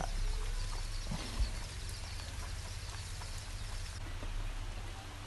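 Steady rain falls outdoors in a hilly, green rural area, a soft and even wash of drops that holds low and constant throughout, with no voices.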